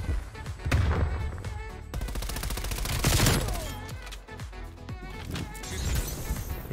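Rapid video-game gunfire with an MP5A1, a dense fusillade of close, loud automatic bursts and single cracks echoing across a battlefield, with pauses between volleys.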